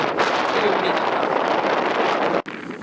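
Strong wind buffets the microphone in a steady, loud roar on a windy outing in a coastal town, cutting out abruptly for a moment near the end before resuming.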